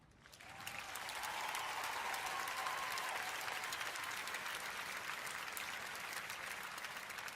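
An audience bursts into applause at the Invictus Games, the clapping rising within the first half second and then holding as a full, steady ovation from a large crowd to the end.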